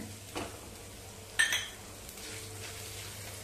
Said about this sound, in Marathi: चांगलं तेलावरती परतवून घ्यायचं।